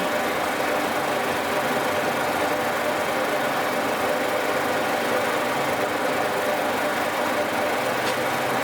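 A boring machine cuts a metal bar at about 6.7 thou per turn, throwing out swarf. A steady, dense, grinding machine drone runs continuously and close, with no voices.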